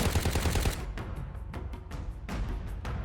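Rapid automatic fire from Slade's high fire rate SMG in the Shadowgun War Games video game, a dense burst of shots for the first second, then scattered distant gunfire and impacts.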